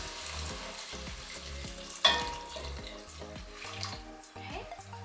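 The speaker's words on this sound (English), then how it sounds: "Then we're gonna pour in our warm vegetable broth." Warm vegetable broth poured into a risotto pan, a steady liquid pour and sizzle with a sharper splash near the middle, close and moderately loud, no talking.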